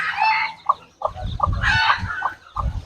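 Chickens on a farm, with wild junglefowl among them, cluck in short repeated bursts while a rooster crows twice, loud and close, with no talk over them.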